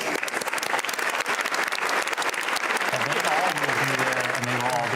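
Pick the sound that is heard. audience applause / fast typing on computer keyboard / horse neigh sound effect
audience applause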